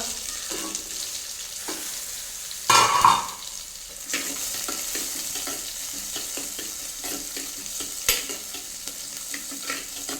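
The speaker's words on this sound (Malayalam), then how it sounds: "ഇതിലേക്ക് നമ്മൾ ചെറിയുള്ളി ഇടുകയാണ്. ഓക്കെ, വഴറ്റുക." Shallots sauté in a pan for a fish curry, sizzling steadily while a utensil stirs and scrapes, with a loud clatter near the start and another sharp knock later.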